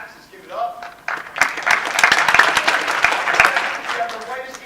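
An audience at a small-town Black History Month skit breaks into applause, a dense burst of clapping and some cheering lasting several seconds that swells and then fades, after a short spoken lead-in.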